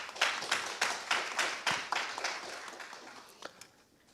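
Sparse, distinct clapping from a small audience at a forum session, welcoming the session chair, a sociology professor. A handful of separate claps grows uneven and fades out toward the end.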